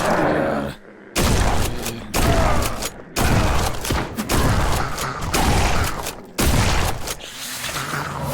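Heavy, booming shotgun blasts fire in the horror shooter game Forgive Me Father 2, with about seven loud bursts coming in quick succession and only brief gaps between them.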